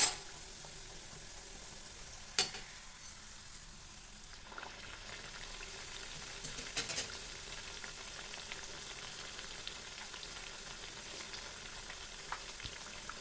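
Maddur vada batter fritters sizzle steadily in hot oil over a medium flame, a soft continuous crackle with a few small clinks and stirring noises, no voices.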